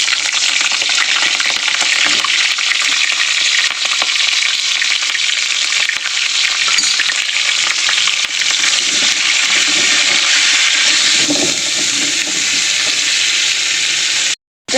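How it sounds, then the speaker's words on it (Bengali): Cauliflower florets fry in hot oil in a kadai, cooked first for a potato and cauliflower curry. A loud, steady, close sizzle holds for about fourteen seconds and then cuts off abruptly. "তো এখানে ফুলকপিগুলো ভেজে নেবো আগে।"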